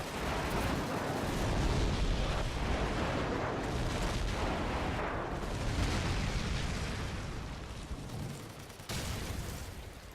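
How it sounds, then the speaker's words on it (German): An airstrike in Call of Duty 4 sets off heavy rumbling explosions that blend into one continuous roaring barrage, loud and booming, with a sharper blast near the end. "Achtung, Luftschlag."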